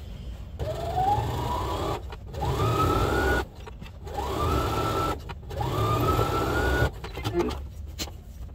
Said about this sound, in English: we'll do a top stitch